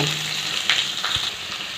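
Onions sizzle steadily in a hot pan for a Tamil moringa-leaf and green gram curry, with a continuous close frying hiss and a few soft stirring clinks.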